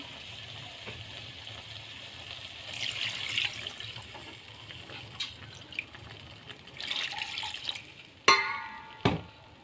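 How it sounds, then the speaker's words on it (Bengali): Water pours into a pan of sautéed potato and ridge gourd curry, a soft watery rush with splashes that swells and fades over several seconds, ending in two sharp clatters near the close. "আলু ঝিঙেটা পুরো কষা হয়ে গেছে এবার জল দিয়ে দেবো"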